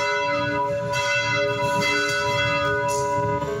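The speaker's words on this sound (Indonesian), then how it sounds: "Gereja Katedral Jakarta membunyikan lonceng pada Sabtu sore" Jakarta Cathedral's church bells toll steadily, a dense wash of overlapping ringing tones with a deep resonant hum, continuous and full throughout.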